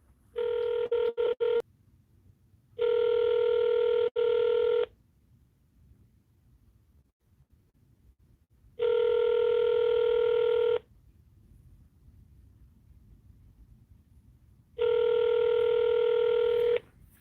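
Telephone dialing and ringback tones while a call is placed: a quick run of keypad beeps, then long steady ringing bursts repeating every several seconds with quiet gaps between.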